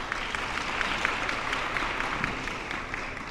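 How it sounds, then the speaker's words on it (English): Audience applause at the Jamaica Diaspora Conference: a steady, fairly faint wash of many hands clapping that holds evenly for the whole stretch, with scattered individual claps standing out. "So another round of applause."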